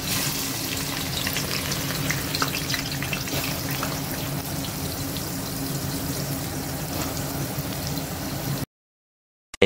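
Onions browning in a pan for a home-cooked feast, a steady close sizzle and crackle running continuously for about nine seconds before cutting to silence, with no voices.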